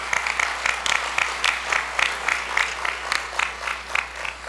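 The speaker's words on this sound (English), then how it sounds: "So give him a big round of applause for his service in uniform as well." Gala audience claps in a series of rhythmic bursts that rise and fall, with a steady low hum underneath and no clear voices over it.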